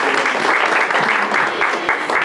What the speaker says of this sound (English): let's give a warm round of applause for our panel and for Julia.